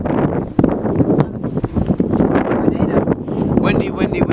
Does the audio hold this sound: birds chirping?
no